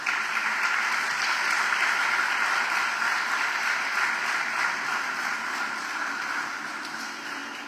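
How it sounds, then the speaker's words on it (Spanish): A church congregation applauds together in a steady, even wash of clapping that holds at one level and eases off slightly toward the end, with no voices over it. "Dale un aplauso al Señor entonces."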